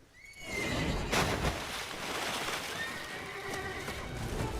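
A horse whinnies loudly and shakily, then neighs again more softly, over a broad noisy rush of background sound.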